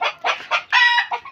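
A hen clucks close and loud in a quick burst of several sharp calls, ending with a longer drawn-out note, with no talking.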